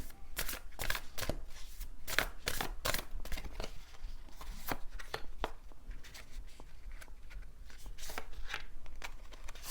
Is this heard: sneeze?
no